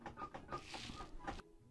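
A person imitates a rooster, giving a short run of throaty clucking and crowing calls, close and fairly quiet, ending abruptly.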